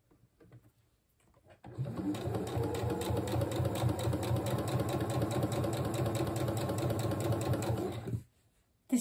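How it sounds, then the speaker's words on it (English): A sewing machine stitches a long seam on a blouse, running steadily for about six seconds with a fast rhythmic mechanical chatter, close and moderately loud, starting and stopping cleanly. "I'm simply going to stitch all the way down that line that we marked until we get to the other end."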